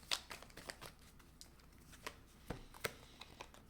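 Tarot cards are handled and laid down to cover them, a quiet series of soft papery slides and light taps spaced irregularly in a hushed room.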